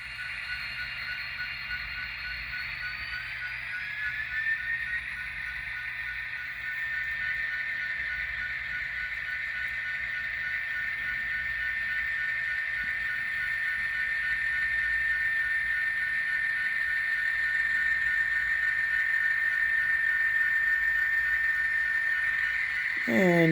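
A small Atlas model train engine rolling in reverse on a layout, a steady high motor whine holding at an even pitch and rising slightly, with a brief clatter at the end.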